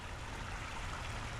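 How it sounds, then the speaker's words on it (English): A waterfall coming down in a snowy, icy winter setting, giving a steady, dense, even rush of falling water throughout, close and unbroken. "that certainly is beautiful right there, that waterfall coming down"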